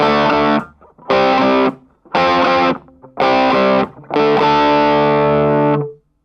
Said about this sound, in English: on the bridge humbucker, it's still got plenty of drive to it, but it's a kind of rock drive